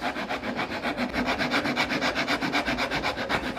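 A wood rasp filing the pins of a wooden box flush, a fast, even back-and-forth rhythm of rough scraping strokes, close and continuous with no talk.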